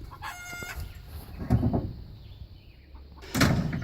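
A rooster crows a few times at moderate distance, with a clattering thud in between and another burst near the end.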